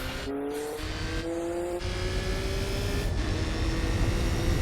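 A race car in Gran Turismo 4 at Suzuka holds a high, steady engine whine with tires squealing through a corner, loud and continuous with a slight rise in pitch, no talking.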